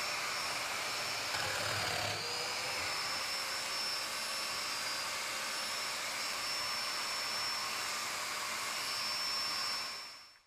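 A domino joiner, a power tool, cuts mortises in wooden rail pieces with a loud, steady high-pitched whine of the motor that runs nonstop for about ten seconds before cutting off.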